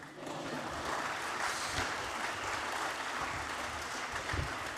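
Audience applause after a speech at a formal French address, a dense, steady wash of clapping from a seated crowd that holds evenly for the full stretch with no talk over it.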